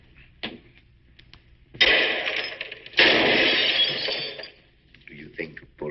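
Gunshots in a 1948 film: two sharp, loud blasts ring out with long echoing tails, separated by quieter stretches of dialogue.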